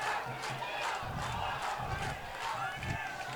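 Spectators at a 2014 schools rugby match, Isipathana College versus Trinity College, cheer and chant from the stands, a loud rolling crowd roar with rhythmic shouted bursts.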